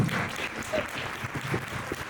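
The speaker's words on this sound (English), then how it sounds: "A big round of applause to Shashi." Audience applause at a women's empowerment conference in Edmonton, a moderate, steady patter of many hands clapping throughout, heard at some distance without talk.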